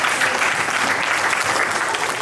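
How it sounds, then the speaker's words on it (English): An audience at a North Alabama Lakers media day breaks into dense, continuous applause, steady and loud throughout with no pauses. "Give yourself a round of applause."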